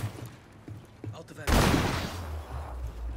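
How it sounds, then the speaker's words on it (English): A sudden loud burst from an EMP grenade in a video game erupts about halfway through, a broad crackling blast that lingers and rumbles down after quieter game sounds. "Works as an EMP grenade."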